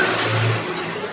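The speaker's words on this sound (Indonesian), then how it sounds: "masih ada suara mobil" A car passes outside a photocopier repair workshop, a faint, brief engine hum in the background with no one talking.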